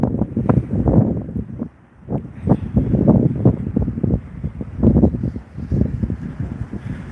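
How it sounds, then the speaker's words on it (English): Strong wind gusts buffet the microphone on a downtown Las Vegas street, a continuous rumbling roar that surges and dips in waves across the whole stretch. "It's still really windy, but not nearly as bad as it was when we started this live stream."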